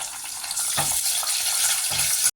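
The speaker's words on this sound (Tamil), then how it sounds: "அதோட முந்திரியை சேர்த்துக்கலாம். இப்போ எல்லாம் வறுத்து விட்டுக்கலாம்" Cumin seeds, green chilies and cashews frying in oil in a pan, a steady close hiss of sizzling with a couple of brief stirring scrapes, no voices.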